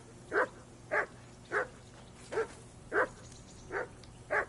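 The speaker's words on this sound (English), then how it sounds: "Henry, call that dog to heel." A dog in Kingdom Come Deliverance 2 barks seven times in a slow, even rhythm, each bark short and moderately close over a quiet background.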